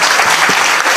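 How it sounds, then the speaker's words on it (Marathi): Loud, close applause from a kirtan audience, a dense burst of many hands clapping together without a break. "एकदा या मंडळींसाठी टाळ्या वाजवा जोरदार."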